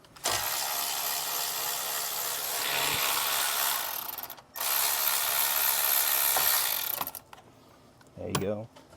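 A ratchet wrench undoes a 10 mm bolt on the hot-side charge pipe bracket of a 2025 Ford Explorer ST, clicking in two long, rapid runs split by a short pause, close up, with a brief extra rattle at the end.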